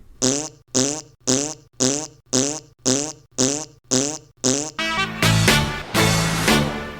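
A fart sound effect: nine evenly spaced, loud buzzy farts in a regular rhythm, followed by a longer, drawn-out blast, close and alone.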